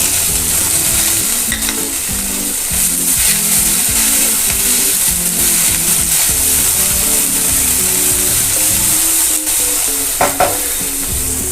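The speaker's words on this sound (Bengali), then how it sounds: "এবার পেঁয়াজ কুচি দেব।" Chopped onions frying in a pan while cooking tilapia: continuous loud sizzle close by, overlaid with rhythmic scraping and clattering from stirring throughout.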